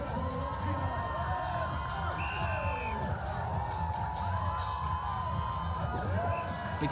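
Large crowd at a strongman event in England cheering and whooping steadily, a continuous roar of voices with scattered shouts, with a voice briefly heard amid the din.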